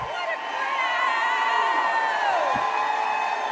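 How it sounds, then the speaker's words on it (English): A large political rally crowd in Phoenix, Arizona cheers and whoops loudly and continuously, a dense roar of many voices with shouts and whistles rising above it. "What a crowd."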